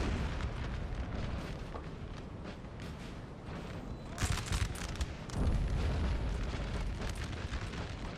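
Booming artillery fire in a Napoleonic-era battle game, with a heavy burst around the middle and another loud blast shortly after, set over a constant rumbling din of distant battlefield noise.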